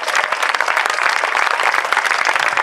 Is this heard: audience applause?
yes